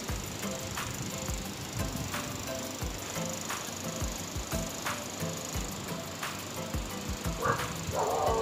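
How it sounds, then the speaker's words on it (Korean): A dog barks in short, repeated yips and woofs at close range, an irregular run of sharp barks over a busy background with some louder bursts near the end. "강아지가 완전히 라운드를 넣어주는 사운드를요."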